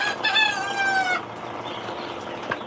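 Young chicks and hens of a tiger-coloured breed, around thirteen days old, peep and cluck in a busy run, with chirping strongest at first and softer clucking behind.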